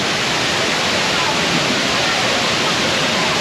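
Thiruparappu waterfall, fed from Pechiparai Dam and about 50 meters high, heard up close as a steady, loud rushing roar of falling water with no break.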